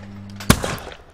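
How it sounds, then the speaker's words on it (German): A single sharp rifle shot rings out in the shooting event of the London 2012 video game, one loud crack about midway with a short decaying tail, over a low steady hum. "Jetzt die Schüsse 5 und 6."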